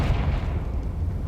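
A Confringo spell explosion in the Hogwarts Legacy video game, a close, loud booming blast with a rumbling, sustained low-end tail lasting just over a second.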